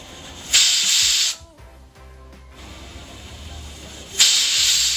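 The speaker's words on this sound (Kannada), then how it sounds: "ಇದು ಕುದಿ ಬರೋ ಸಮಯಕ್ಕೆ ನಾವು ಕುಕ್ಕರ್ ಕ್ಯಾಪ್ನ ಹಾಕಿ ವಿಜಿಲ್ ಇಡೋಣ" Pressure cooker with rice on a kitchen stove, two loud bursts of hissing steam from the whistle separated by a quieter stretch of faint kitchen sounds.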